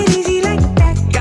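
Short burst of an electronic music single, dense and loud with layered synth tones and a gliding bass line.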